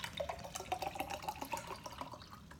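Water pours from a tap into a glass beside a pool, a close, quiet trickle with small bubbling plinks that rise slightly in pitch as the glass fills.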